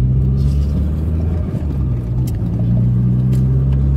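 An Opel Calibra turbo 4x4 car engine runs with a loud, steady low rumble that dips briefly midway, and no one talks.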